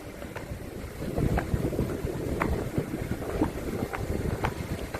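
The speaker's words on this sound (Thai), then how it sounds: "ลมเย็นสบายครับ" Wind gusts over an open rooftop terrace, a steady blustery rush against the microphone with soft irregular buffeting, no voices.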